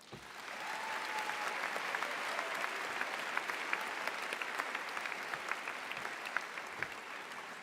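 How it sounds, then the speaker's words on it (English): Graduates at an afternoon convocation ceremony give a sustained round of applause for faculty and staff, a broad, even crowd clapping heard from a distance with scattered sharper claps throughout. "Graduates, I invite you to please join me in a round of applause for all the faculty and staff"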